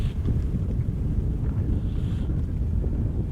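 Steady wind buffets the microphone aboard a small fishing boat near a bank, a constant low rumbling rush with no clear breaks.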